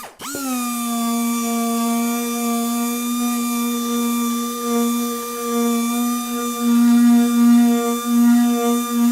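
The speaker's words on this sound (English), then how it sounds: "As we're doing our 120 grit sanding, we're also going to sand the face of our panel" A palm sander with 120-grit paper works on a wooden kitchen cabinet door: it spins up sharply, then holds a steady, close, droning buzz for several seconds, growing slightly louder near the end.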